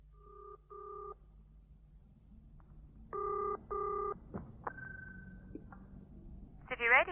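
A call from a phone box: two beeping tones, then a ringing pattern, a click, a long tone and a burst of ringing near the end, all faint and thin, with no voices.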